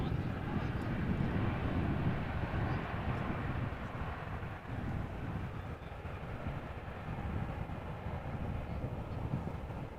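A KLM airliner landing at Amsterdam Schiphol with reverse thrust, a steady, loud, broadband engine roar that holds at near-constant level throughout, with no talk.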